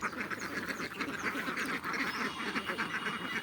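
Several farm ducks quack in a busy, continuous chorus, the calls overlapping close by with no pauses and no talking.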